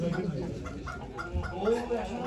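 Rooster at a crowded chicken auction in Ankara, with clucking and crowing-like calls mixed into loud, continuous talk from an auctioneer and bidders.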